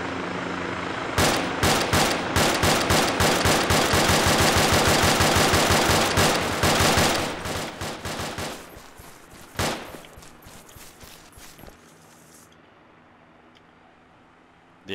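Sustained rapid bursts of gunfire in the video game City Life RPG 2, loud and close, with the rattling shots thinning out and giving way to scattered single cracks and a fading rumble.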